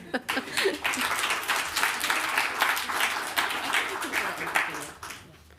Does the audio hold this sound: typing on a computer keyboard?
no